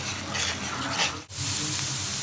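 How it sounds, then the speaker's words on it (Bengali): Chili, turmeric and salt spice paste frying in a pan, making a loud, continuous hiss with a brief dip in the middle as it is stirred, no talking. "মশলা কষানো আমার হয়ে গেল।"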